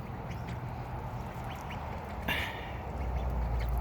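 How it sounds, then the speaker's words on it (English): A few small ducks peck at a tomato in a garden, giving faint, scattered quacks over a soft outdoor background with a brief rustle partway through. "since having these little ducks, Louie kept taking off with the tomato."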